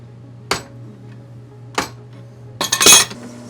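Wrench makes metallic clinks while a heavy 2-kilo gold Cuban link chain is adjusted by hand to align its links, two sharp isolated taps followed by a quick cluster of jingling hits, close and fairly quiet.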